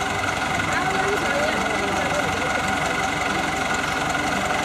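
A heavy tractor engine chugs and knocks continuously with a rough vibrating rhythm, loud and close throughout.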